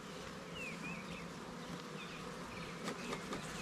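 Honey bees from a package colony buzz around their hive: a faint, steady outdoor drone of many wings, with a few thin bird chirps in the background and no speech.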